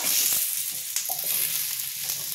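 Mixed vegetables, with pumpkin just added, sizzle steadily in hot oil in a pan for a Bengali fish-head and vine-greens dish, a dense close hiss with a few faint stirring knocks and no voices.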